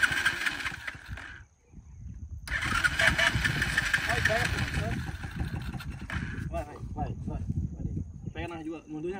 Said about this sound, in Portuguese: Tenta ligar sem acelerar.